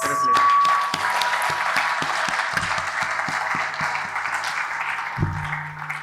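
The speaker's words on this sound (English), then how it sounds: "Let's hear it for yourselves with a big round of applause." An audience at an induction programme gives a sustained round of applause, dense clapping that stays loud for about five seconds and then thins out, with a low hum entering at the end.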